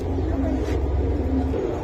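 A pigeon coos low and soft close by, a short throaty murmur over a steady hum of background noise.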